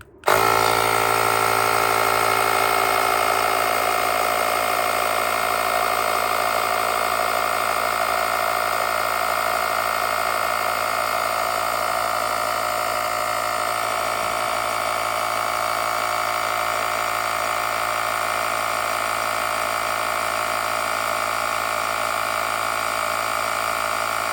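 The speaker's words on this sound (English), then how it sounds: "I'm just going to press the start button, and it should begin to inflate and then turn off at 32 psi." A GOOLOO AP150 cordless air pump inflating a tire, starting abruptly and running as a loud, steady mechanical drone with a buzzing motor tone that holds unchanged throughout.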